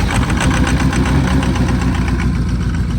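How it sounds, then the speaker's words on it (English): A 1979 Ford F250 engine, cranked over with a fender wire in cold weather, runs with a loud, close, steady mechanical rumble and a continuous idle-like drone throughout. "this is how we got to crank this thing over and start it with the old fender wire"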